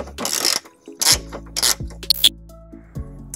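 A ratchet socket wrench with a 17 millimeter socket works on a tow hook bolt of a 2006 Subaru Forester, giving several short clicking ratchet bursts and metallic clanks, close and intermittent.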